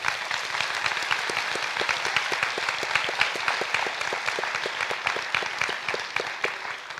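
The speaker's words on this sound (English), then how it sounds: "I think that deserves one more round of applause" A crowd at a high school scholarship ceremony claps steadily in a sustained round of applause, dense and close, with no talk over it, tapering slightly near the end.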